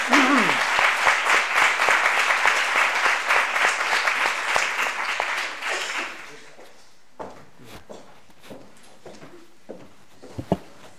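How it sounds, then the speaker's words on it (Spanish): An audience at a talk on preparing a court case breaks into loud, dense applause for about six seconds, then it thins out and stops, leaving a few scattered claps and small noises in a quiet room. "un aplauso a vosotros"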